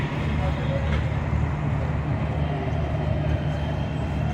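The Awam Express, a loaded Pakistani passenger train, arrives at a station with a steady low rumble and hum that hold throughout at moderate distance.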